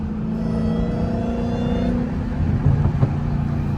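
Dodge Hellcat engine with a bag intake, a deep steady rumbling idle with a whining overtone, swelling briefly near the end as the throttle is blipped, close and loud, no voices.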